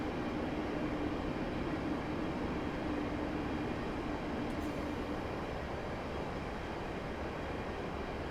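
A Class 150 diesel multiple unit in Train Simulator 2016 brakes on the Bristol to Cardiff route, a steady, moderately loud rumble of the running train with a faint low tone, continuous throughout.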